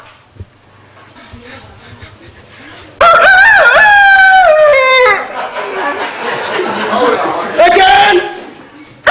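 Up close, a person loudly mimics a rooster's cock-a-doodle-doo, one long wavering crow followed by a shorter second call, with murmuring voices and classroom noise in the background.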